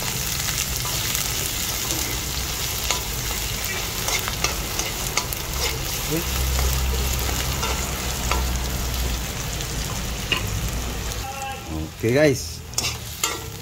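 Garlic and onion frying in a pan for a green bean vegetable dish, a steady close sizzle with occasional stirring scrapes, and a brief voice near the end.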